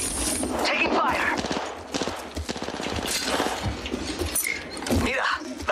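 Rapid gunfire rattles in bursts during an Apex Legends firefight, loud and close, with impact cracks and a voice talking over the shots.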